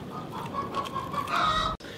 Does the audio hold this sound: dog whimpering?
no